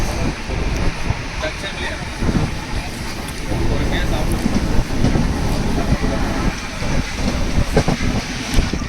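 Train coaches roll slowly past a station platform in Tirumala, a steady rumble with faint clickety-clack and wind noise running throughout, while people talk nearby.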